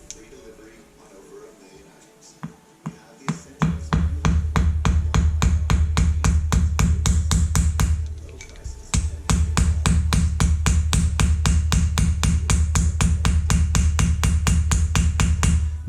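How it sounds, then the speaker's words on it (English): Hammer peening steel pins into a micarta knife handle: after a few scattered taps, a long run of rapid, evenly spaced metallic strikes follows, loud and close, pausing briefly midway before resuming. "with micarta, you can really hammer them pins in"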